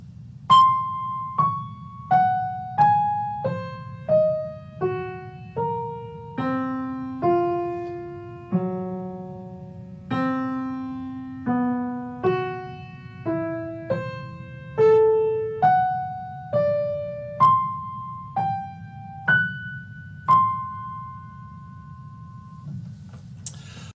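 A string quartet plays a slow scale built from two interwoven interval series, about twenty sustained notes stepping up and down in turn, clear and close with a faint low hum beneath and no talk.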